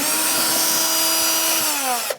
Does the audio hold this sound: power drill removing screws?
yes